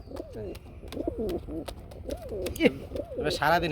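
A pair of army pigeons gives repeated rolling coos, several in a steady rhythm, close and moderately loud, with a voice speaking near the end.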